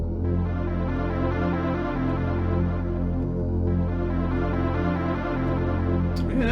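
Early version of a Deltarune Chapter 1 track plays as steady, sustained tonal music with layered harmonic notes at an even loudness throughout, without any voices.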